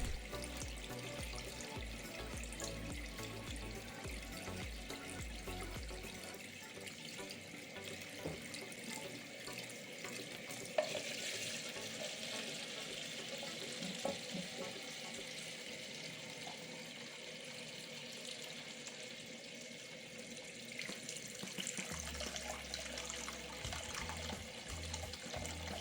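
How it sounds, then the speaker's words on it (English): Water runs steadily from a tap into a sink and drains away after an unclogged drain, a soft continuous splashing and gurgling flow that stays faint and even throughout, without speech. "Let's check how the water drains."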